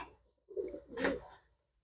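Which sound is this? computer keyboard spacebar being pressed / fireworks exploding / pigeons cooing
pigeons cooing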